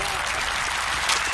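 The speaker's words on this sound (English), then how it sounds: "Clap it up. Clap it up for my man." A crowd claps steadily through a short burst of applause that fills the whole moment, dense and even, with voices faintly mixed in.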